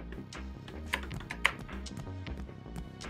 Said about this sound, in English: Apparently I'm typing a 9 instead of an 8.